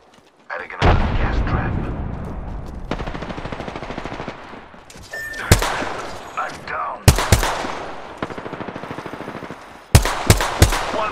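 Rapid gunfire in the video game DMZ, loud bursts and sharp single shots crackling over a dense, sustained battle din, with several heavy impacts near the end.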